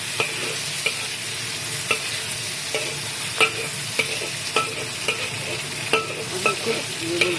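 Pineapple and chilies sizzle steadily in hot oil in a pan while being stirred, with a spoon scraping and clicking against the pan at irregular intervals over a constant frying hiss; no one speaks.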